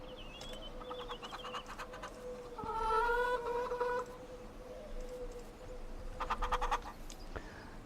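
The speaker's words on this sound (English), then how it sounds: "These chickens are very loud, they're gonna get turned into chicken nuggets." Chickens on a Farming Simulator 25 farm cluck and squawk in several loud bursts, one longer squawk in the middle, over a steady low ambient background.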